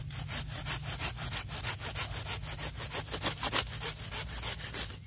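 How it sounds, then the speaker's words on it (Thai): A hand saw cuts through bamboo in quick, regular back-and-forth strokes, close and rasping, with no voices. "นี่ครับเลื่อยแบบนี้เหมาะสำหรับเอามาตัดนะครับ"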